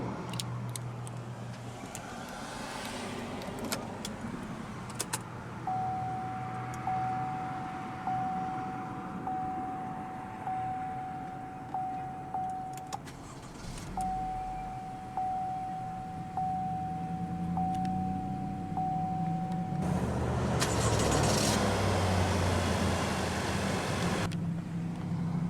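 A 2014 Chevrolet Malibu 1LT sedan engine cranks and fires, then settles into a steady idle, heard up close under ambient road noise, with a loud surge near the end as the engine catches and revs.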